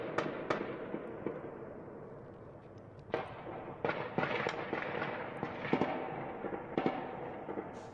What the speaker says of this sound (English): You hear the gunfire in the background.